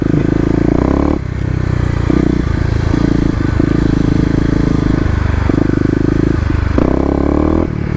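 A Kawasaki KLX250 motorcycle does burnouts across a wet parking lot strewn with leaves and dirt. The engine holds steady, loud, close revs that jump and drop in bursts, with scraping and clattering from the spinning rear tire.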